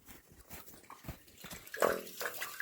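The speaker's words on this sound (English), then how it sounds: "Yeah, you can hear the water draining." Water drains down an underground well beside a frozen water line, a faint gurgling and trickling that swells into a louder gush near the end, with soft background noise.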